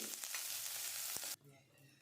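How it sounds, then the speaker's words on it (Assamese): Onions fry in hot refined and mustard oil in a wok, a loud, bright, crackling sizzle that cuts off abruptly partway through, leaving quiet background, with no talking. "তেলখিনি গৰম হ'বলৈ দি প্ৰথমতে পিঁয়াজখিনি দি ল'লোঁ"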